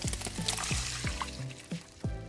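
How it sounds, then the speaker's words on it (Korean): Water pours into a pot of browned beef at close range, gurgling and splashing in uneven spurts, while making soybean paste stew. "물 400ml를 붓고"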